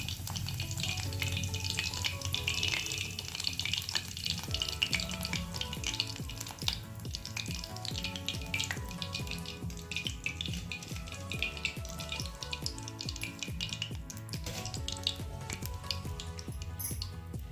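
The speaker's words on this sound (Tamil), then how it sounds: "சிக்கன் நல்லா பொரிஞ்சு வந்துருச்சு." Chicken 65 pieces deep fry in hot oil, a dense, continuous bubbling sizzle with crackles and pops running steadily throughout at close range.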